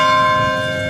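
A cathedral church bell rings at noon, a sustained bright metallic tone with a rich stack of overtones, loud and close, slowly decaying with no talking over it.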